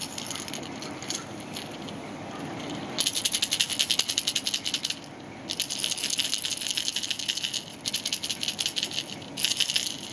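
Jackall Mag Squad 115 fishing lure with a large ball bearing in its front chamber, shaken in bursts of loud, dense clicking rattle, several rapid shaking spells separated by quieter pauses, close and alone.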